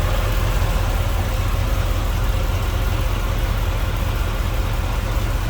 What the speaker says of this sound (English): Get an idea how that runs. It runs pretty smooth.